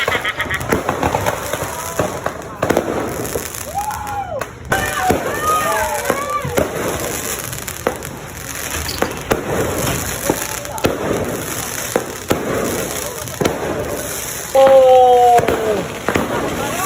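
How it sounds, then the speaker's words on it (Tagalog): Midnight fireworks burst repeatedly in the distance, with crackling pops, whistling rises and booming bangs spread through the scene while people talk and exclaim close by. "nigawas na yung fireworks kay alas 12 na sa kadlawon"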